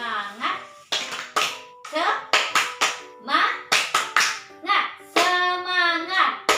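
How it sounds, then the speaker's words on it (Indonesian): An elementary school class performs a rhythmic clapping cheer, with bursts of synchronized claps alternating with children's voices chanting the cheer in unison, close and lively. "ayo sama-sama kita tepuk semangat dulu biar lebih semangat"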